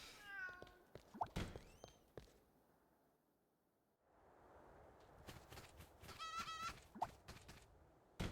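Cats meowing in the video game Fantasian: several short meows early on, a quiet gap, then a louder run of rapid, warbling cat calls with clicky game sounds around them.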